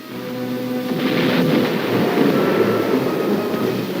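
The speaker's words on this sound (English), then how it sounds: "Nice to hear the steady crump of your own mortars" Mortar and howitzer fire in Korean War combat: a sustained, heavy rumbling boom that swells and rolls continuously, dense and loud, with no distinct separate shots.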